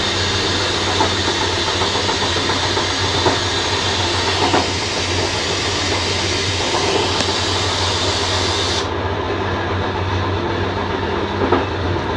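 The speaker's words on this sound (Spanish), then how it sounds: "Un buen montón de trenes que pasan por ahí" Trains running along a busy line on the Valencia–Albacete route, a loud continuous rumble with rhythmic wheel clatter and engine drone that continues for the whole stretch, the high end cutting off near the end.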